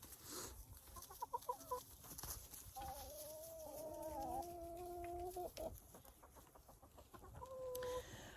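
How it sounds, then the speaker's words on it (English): Chickens in a winter coop squabble and cluck, a run of sharp rising squawks and drawn-out calls at close range, with rustling and scuffling between bursts. "Chicken fight over here."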